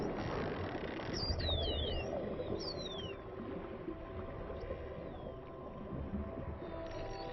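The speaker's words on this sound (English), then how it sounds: "A pod of short-finned pilot whales." A pod of short-finned pilot whales in the ocean gives a few short rising and falling whistles over steady low underwater rumble and hiss, clustered early and then fading to quieter calls.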